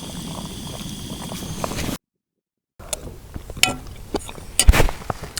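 Homemade stew simmering in a pot on a camping stove at a misty wild camp, a soft bubbling hiss with occasional small clinks, broken by a short gap of silence midway.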